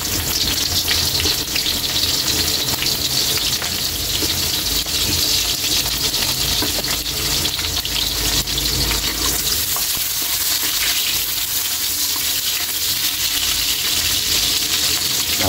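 Onions sautéing in a hot pan for chicken sotanghon, a loud, dense, continuous hiss and sizzle that holds steady from start to finish with no talking over it.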